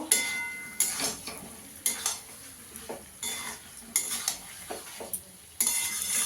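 Fried potatoes being stir-fried in a pan for a garlic potato dum, repeated scraping and clinking of a spatula against the pan in rhythmic strokes over a soft sizzle, close by.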